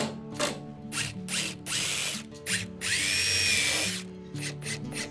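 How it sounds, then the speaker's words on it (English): A drill drives a thin screw into a cedar board on a walk-in closet wall, heard as several short whirring bursts and one longer sustained run with ratcheting, close and fairly loud, with no talking. "I use a thin screw and secure it in the back"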